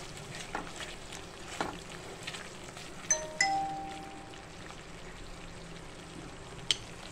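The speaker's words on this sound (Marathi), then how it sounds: "आता हे मीठ घालून आपण असं छान परतणार आहे." Green masala with salt being sautéed in a pan, a soft steady sizzle with occasional clinks and scrapes of a spoon against the pan, close and fairly quiet.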